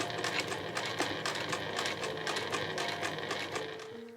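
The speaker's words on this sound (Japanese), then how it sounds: "ここからこの縫い目のところまで返し縫いしていきます。" A sewing machine backstitches a seam on a two-tone cotton shoulder bag, running steadily for several seconds with a fast, even stitching rhythm, close and alone with no talk.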